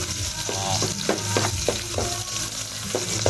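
Garlic sizzles steadily in a hot pan for a Filipino vegetable dish, with several sharp utensil clinks and scrapes as it is stirred at an uneven rhythm.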